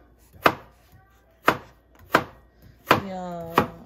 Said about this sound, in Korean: 아빠 봐봐 칼질 잘하지.